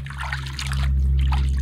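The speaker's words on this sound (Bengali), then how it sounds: "পেটির মাছটুকু ধুয়ে নিলাম, গাদাটাও জলে রেখে দিই।" Belly pieces of katla fish being rinsed in water, a steady close trickle and slosh running throughout over a low constant hum, with no talking.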